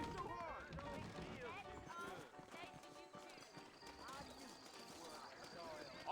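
Horses' hooves clip-clopping at a steady walking rhythm in the Red Dead Redemption video game, set in a western town, heard under continuous conversation between characters.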